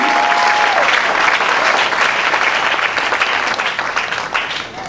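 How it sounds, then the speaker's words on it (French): A church congregation at a French-speaking worship service applauds loudly and continuously, the clapping filling the room and easing off slightly toward the end. "Acclamons le Seigneur Jésus."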